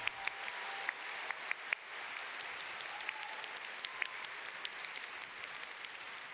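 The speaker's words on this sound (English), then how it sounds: "Applause!" Audience applause at the FFXIV Fan Fest Las Vegas 2023 keynote, a fairly faint, steady crackle of many hands clapping throughout, with a few sharper individual claps and cheers standing out.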